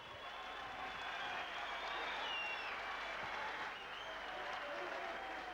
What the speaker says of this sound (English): Give them both a big round of applause.